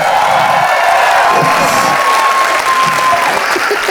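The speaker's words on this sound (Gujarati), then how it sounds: "Round of applause for Shahabuddin Rathod." Studio audience applauding for Shahabuddin Rathod on a Gujarati comedy talk show, steady loud dense clapping with a few cheers and whoops throughout.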